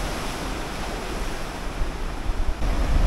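Large ocean waves crash along the Busan coast in a loud, continuous roar mixed with wind buffeting, swelling into a heavier surge toward the end.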